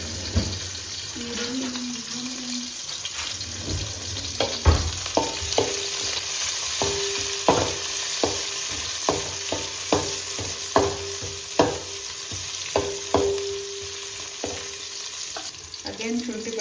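Onions frying in oil in a pan for biryani, a loud continuous sizzle with regular scraping stirs and spoon knocks against the pan, close up, with brief bits of talk.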